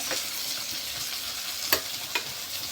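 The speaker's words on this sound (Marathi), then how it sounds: "आपले मसाले छान असे भरून झाले की आपण लगेच फ्राय करायला घेणार आहोत।" Masala-coated bangda mackerel frying in a pan, a soft steady sizzle with two brief sharper spits or crackles, close and quiet, with no voices.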